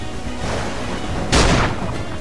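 A single sharp musket shot cracks out in the video game Assassin's Creed IV, a sudden loud blast partway through over a dull, steady game ambience.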